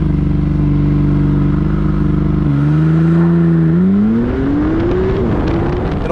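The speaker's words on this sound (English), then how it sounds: "You hear a little turbo whoosh, a little little vacuum cleaner kind of sound, but also a nice healthy growl." A McLaren sports car engine growls loud and close with a faint turbo whoosh, holding a steady low drone before the revs climb smoothly in pitch, with no talking.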